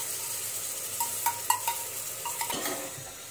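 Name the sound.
marinated soybean chunks being sautéed and stirred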